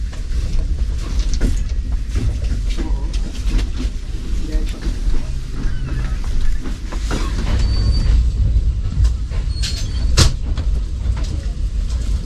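A late-running passenger train, in an air-conditioned parlour car, rumbles along toward Gujarat railway station in the early morning, with steady track noise, clicking joints and occasional sharp squeaks and clatters close by.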